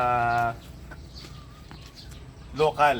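Bulik chickens cluck and call softly on a farm, heard faintly between human voices that speak at the start and end of the short stretch.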